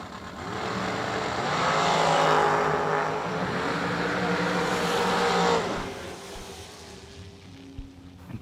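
Race cars tear down the drag strip at World Wide Technology Raceway, a loud rising roar that swells for several seconds and then fades as the cars pull away, leaving a softer ambient rumble.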